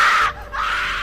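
A woman screams at Ronit in a horror story, a loud, close, shrill scream that breaks briefly and then carries on, with no talk over it.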